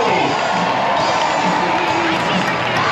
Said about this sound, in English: Let's hear it for Jerry Beck and the Big Crew